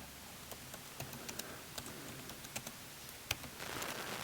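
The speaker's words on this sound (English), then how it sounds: "And we just type in" Title text being typed on a computer keyboard during a FotoMagico 4 slideshow demo, a sparse run of light, separate key clicks at an uneven pace, fairly close and quiet, with no talking.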